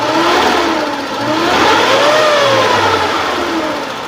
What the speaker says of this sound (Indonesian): Coba sedikit saya naikkan RPM